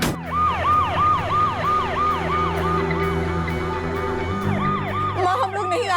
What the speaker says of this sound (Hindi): माँ, मैं एम्बुलेंस में हूँ, अशु को हॉस्पिटल लेके जा रही हूँ।